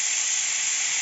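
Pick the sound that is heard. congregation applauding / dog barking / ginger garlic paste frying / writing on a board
ginger garlic paste frying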